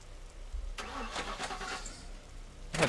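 A car engine in The Last Stand: Aftermath cranks and catches at a fairly quiet level, settling into a brief mid-pitched rumble, followed by a sharper clatter at the very end.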